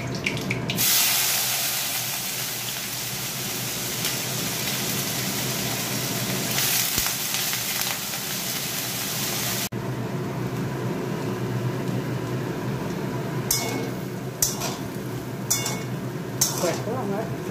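Potatoes frying in oil with whole cumin seeds in a home kitchen, giving a steady, close sizzling hiss with occasional stirring clatter throughout.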